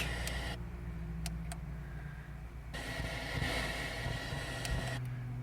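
A 2005 Ford Focus car radio gives off hissy static, steady but cutting in and out in broad bursts, with faint ticks and a low hum underneath.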